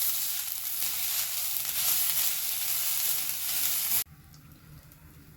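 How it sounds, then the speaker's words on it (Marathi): Grated coconut sautéing in a hot pan for a fasting kachori filling, a loud, bright hiss that holds steady for about four seconds, then drops suddenly to a quieter sizzle. "आता आपण यामध्ये खोबऱ्याचं किस घालून घेऊया. हा देखील आपण 2 मिनिट छान परतून घेणार आहोत."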